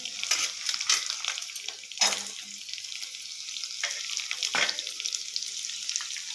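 Sliced onion and coconut sauté in a hot pan with a steady, soft sizzle, broken by a few brief stirring scrapes at irregular intervals.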